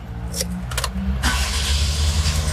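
A 2024 Daihatsu Terios X manual with a 1500 cc engine starts outdoors: a short starter crank catches and settles into a smooth, close idle.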